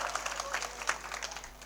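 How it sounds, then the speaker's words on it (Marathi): Audience applause during a Marathi speech about Chhatrapati Shivaji Maharaj: brief, fairly quiet clapping from a crowd, a dense patter of hand claps that swells slightly near the middle before continuing evenly. "जोरदार टाळ्या वाजवा एकदा, जोरदार."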